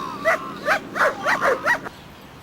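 A dog in attack training gives a rapid series of about six short, sharp barks or yips, fairly close and clear with no talk over them.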